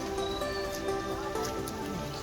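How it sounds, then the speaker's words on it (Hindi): Steady rain pours down near the Korang River, a dense continuous patter of drops on a surface with no voices. "इससे अंदाज़ा लगा लें बारिश किस तरह हो रही है।"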